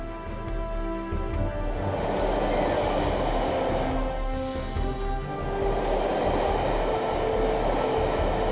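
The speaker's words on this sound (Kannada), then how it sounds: "ಎಂತ ಮೆಟ್ರೋ ಟ್ರೈನ್ ಗಾಳಿಯಲ್ಲಿ ನಡೆಯುತ್ತೆ" An elevated metro train runs through the air above a city, giving a steady, loud rolling rumble with a rhythmic rattle that swells and eases over several seconds. No voices are heard.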